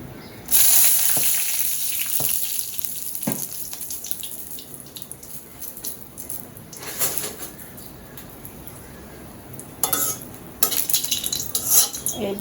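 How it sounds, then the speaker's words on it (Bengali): Dried red chillies fried in a pan, with clinks of a utensil against the pan and a faint sizzle, plus intermittent scraping and a brief watery splash, close-up with no talk. "শুকনো মরিচটাকে একটু ভেজে নেই"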